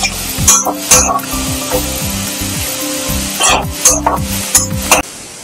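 Masala spices fry in a pan for egg masala, a close sizzle broken by repeated scraping strokes of a spoon or spatula in a steady stirring rhythm, with clinks against the pan.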